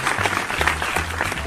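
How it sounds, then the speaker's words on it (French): Audience applause at a stage show, a short burst of dense, fairly loud clapping from a crowd with no voices over it. "On applaudit."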